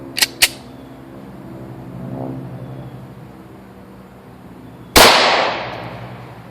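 A .357 SIG handgun fires once with a sharp, loud crack and short decaying tail, preceded by two faint quick clicks of handling.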